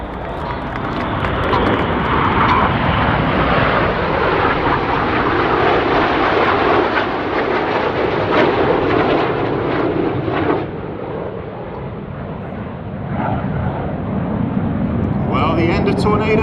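Red Arrows jets flying an airshow display at Miramar, a loud continuous roar of jet engines passing overhead that dips briefly near the end, with crowd noise faintly beneath.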